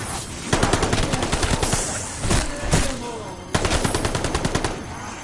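Rapid bursts of automatic gunfire from Call of Duty Vanguard Zombies crackle in dense volleys, pausing briefly between strings of shots, loud and close.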